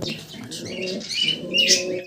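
A pair of red pigeons coo steadily up close, a continuous throaty murmur with a brighter call near the end.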